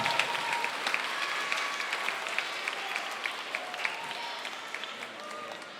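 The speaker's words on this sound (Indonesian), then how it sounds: "Kita kasih tepuk tangan di sebelah sana" An audience at a Good Friday tableau performance applauds for the assistant director in a steady, lively wash of clapping, with a few sharper individual claps standing out and faint crowd murmur underneath.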